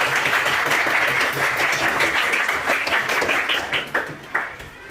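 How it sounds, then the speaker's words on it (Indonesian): Classroom applause for a student during a teacher training lesson, a dense steady patter of many hands that thins into a few scattered claps toward the end. "Berikan tepuk tangan lagi buat Nanda, buat teman kita."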